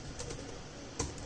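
Computer keyboard typing while coding a Django category filter with Ajax and jQuery: a short run of soft, close key clicks with one sharper keystroke near the end, no talking.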